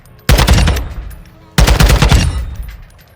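Two loud, close bursts of rapid automatic fire from a TAC 56 assault rifle in the shooter game DMZ, each roughly a second long with a short pause between them.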